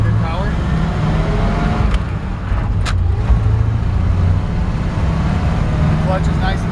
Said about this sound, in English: It's got the original flathead V8.